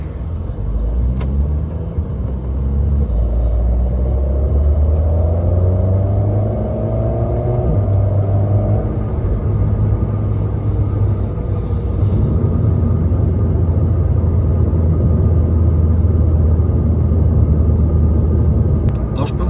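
An Alpine A110S sports car engine revs up loudly through the gears with a shift partway, then holds a deep, steady drone, heard close from inside.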